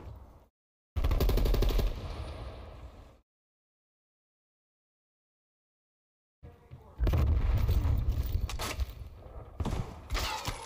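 Gunfire in a competitive video game shooter, loud bursts of rapid automatic fire in two separate stretches divided by several seconds of silence, with no voices over the shots.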